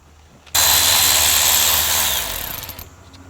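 A power tool spins up abruptly and whirs loudly for about two seconds while unscrewing the transmission oil pan bolts on a Ford F150, then trails off and stops.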